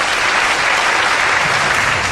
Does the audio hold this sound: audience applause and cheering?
yes